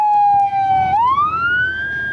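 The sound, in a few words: ambulance siren departing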